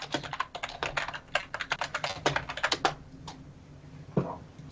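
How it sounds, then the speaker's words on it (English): Someone types on a computer keyboard nearby with rapid bursts of clicky keystrokes, then the typing slows to a few scattered taps followed by a final heavier key press. "Someone's typing something, right?"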